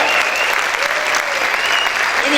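Loud, sustained applause from a church congregation, a dense even wash of clapping filling the room without a break.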